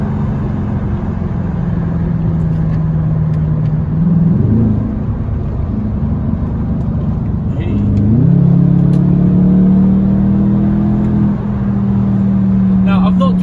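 BMW 645ci with a 330 bhp V8, driving along as its engine hum rises and falls through a couple of revs, steady and close, with talk in the cabin over it.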